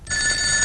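Telephone bell ringing in a house, a short bright electronic ring starting abruptly and holding steady, loud and close with no voices.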